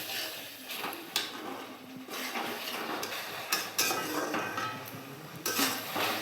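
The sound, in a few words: stirring curry in a pot after adding water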